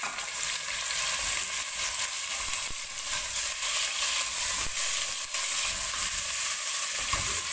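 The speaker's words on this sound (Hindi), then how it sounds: "चिकन को जो है ये फ्राई करती हूँ हल्का सा" Chicken frying lightly in a pan with whole spices, a loud, steady, bright sizzle that runs unbroken throughout with faint stirring.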